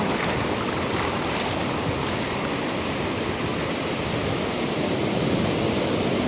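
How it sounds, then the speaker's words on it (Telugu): Sea waves at Suryalanka beach near Bapatla, heard as a continuous, dense roar of surf and wind that stays loud and steady throughout, with no voices. "బాగా వేగంగా వీస్తున్నది సముద్రం అలలు"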